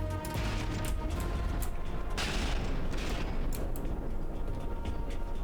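Warship guns in a naval vehicle-building combat game fire in a steady stream of heavy mechanical thuds and booms over a constant rumbling background, with one louder burst of blasts midway and no talk.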